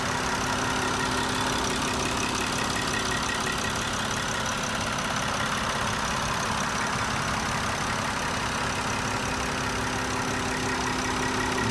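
A clean 2014 VW Passat engine idles steadily and quietly, a constant even hum with a faint tonal drone and no revving or voices throughout.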